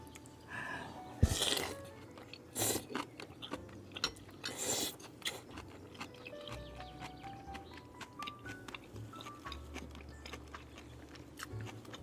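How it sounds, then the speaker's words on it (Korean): Crunchy food being bitten and chewed close to the mic during a Korean mukbang eating broadcast, with a few loud crisp bites early on followed by softer, steady chewing sounds over a quiet background. "다시 한번 먹어볼게요"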